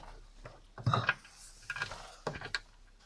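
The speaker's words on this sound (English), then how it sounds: "Installing these bolts." Bolts fastened into a car's under tray, heard as a few short, faint metallic clicks and ratcheting bursts in quick clusters against a quiet background.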